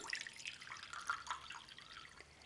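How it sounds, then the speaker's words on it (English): Water is poured into a container for a fabric bleaching craft, a quiet close trickle with light splashing and dripping, faint and uneven throughout. "So you're going to pour in your water"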